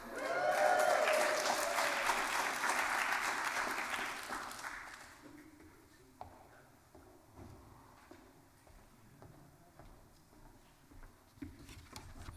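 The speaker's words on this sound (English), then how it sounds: "I was hoping for that double applause" Audience applause greets a faculty lecturer walking to the stage, a burst of clapping that starts full and then thins out, followed by scattered footsteps and faint shuffling in the quieter hall.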